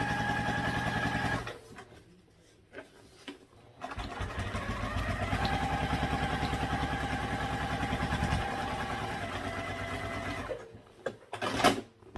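A sewing machine runs steadily while top stitching a tote bag lining, humming and whirring for several seconds with short stops and restarts, close and clear with no talk.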